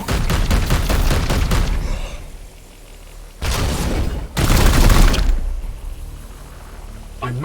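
Support-fire gunfire in Warhammer 40k: Chaos Gate – Daemonhunters, a strategy video game: loud, dense bursts of shots crackle at the start, then two heavy booming volleys hit a moment later, with no talking.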